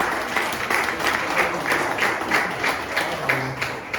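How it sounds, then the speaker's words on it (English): At a presentation on Nigerian stamps, currency and bottles, the audience gives a loud, sustained round of applause, many hands beating in a loosely rhythmic patter, with a faint murmur of voices underneath toward the end. "I think we need to give Goethe Institute a big round of applause."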